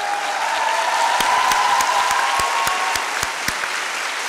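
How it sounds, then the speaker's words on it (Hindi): Graduation audience at a medical university convocation in Rawalpindi applauding their parents: dense, steady crowd applause fills the room, with a few sharper individual claps standing out near the front. "मैं ये चाहूंगा खड़े होकर तालियां बजाएं अपने पेरेंट्स के लिए आज"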